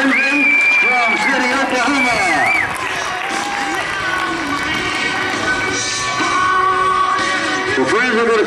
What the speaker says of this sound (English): You give her a round of applause.